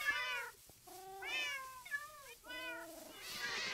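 Several cats meow in turn in the video game Minecraft, a string of clear, close, drawn-out mews with short pauses between them, and no talking over them.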